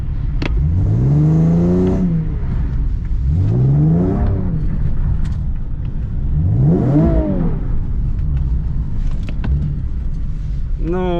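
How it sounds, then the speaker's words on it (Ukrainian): A Nissan 370Z exhausts drones while driving, loud and close, with repeated rising and falling rev swells about every two to three seconds over a constant low rumble. "Ну, вихлоп гуде, но машина не особо їде."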